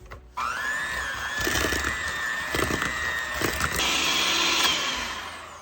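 Butter, eggs and sugar are creamed for a red velvet cake batter, and a steady, close motor whine starts abruptly and runs continuously, its pitch shifting slightly while the beaters knock the bowl now and then.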